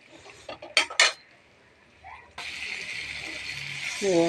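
Metal spoon clanks and scrapes against a pan of masala with egg and potato a few times, a short pause, then a steady loud sizzle of frying takes over.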